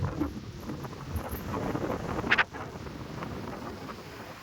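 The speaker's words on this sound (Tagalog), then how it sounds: "Lakas na yung hangin." Strong coastal wind at the Little Batanes rock formations of Bagac, Bataan, buffets the microphone in a continuous low roar, with a brief louder gust midway and no voices.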